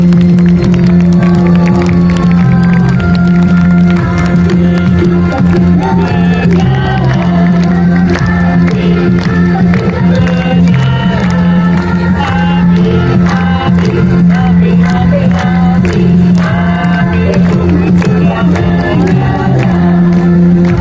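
Crowd at a nighttime school campfire event clapping and cheering steadily and loudly throughout, with whoops and shouts rising over sustained applause.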